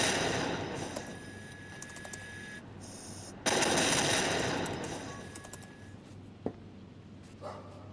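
Airship gun turrets firing in Batman: Arkham Knight, bursts of rapid mechanical gunfire that cut off abruptly, with a sharp single crack later and a low engine hum underneath.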